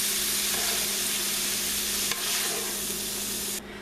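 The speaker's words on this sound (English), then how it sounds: "We're going to add our pound of ground beef." A pound of ground beef going into a hot pressure cooker, giving a loud, steady sizzle and hiss with a faint stirring scrape, which drops away abruptly near the end.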